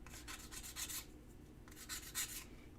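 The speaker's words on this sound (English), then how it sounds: "I'm feeling like the sanding is taking longer." Quiet rhythmic rasping strokes, sandpaper rubbing back and forth over a surface in two short bursts, close and soft.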